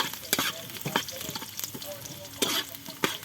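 Garlic sautés in hot oil in a pan for native chicken tinola, giving a steady frying sizzle broken by repeated sharp scrapes and clanks of a spatula stirring against the pan.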